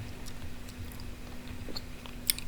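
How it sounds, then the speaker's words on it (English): Soft, subtle gum chewing up close, with faint moist clicks and smacks over a quiet steady background hum, one sharper snap near the end. "I am also chewing gum."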